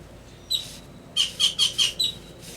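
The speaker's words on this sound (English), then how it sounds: "Got a lot of birds out here spying on me." Birds chirp outdoors at a stone patio installation site: one short call, then a quick run of four bright, close chirps and a final one over a quiet ambient background.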